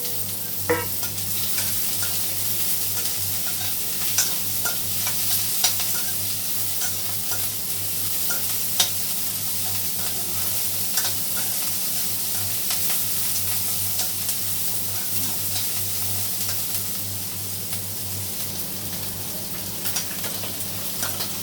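Two onions fry in a pan with a continuous close sizzle and steady hiss, broken by occasional light scrapes and taps of a stirring spoon, with a low hum beneath and nobody speaking.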